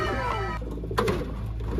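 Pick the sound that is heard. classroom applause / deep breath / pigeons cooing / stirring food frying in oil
pigeons cooing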